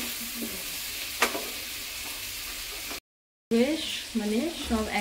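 Chopped vegetables for sambar dal are stirred and lightly fried in a pan, with a steady sizzle and a sharp utensil clink. After a brief cut, a voice talks over the frying.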